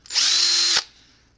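A 13/64 drill bit boring out holes for a wheelie bar install on an Arrma RC car, one close, loud burst of high whining drill noise lasting about half a second, then stopping abruptly and leaving a faint tail.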